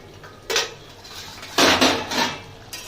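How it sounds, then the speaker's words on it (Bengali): A metal lid is lifted off a cooking pot of simmering potol (pointed gourd) and potato curry, giving a couple of sharp metallic clanks and scrapes, the loudest burst in the middle, with no talking. "5 মিনিট পরে আমি ঢাকনাটা খুলে দেবো।"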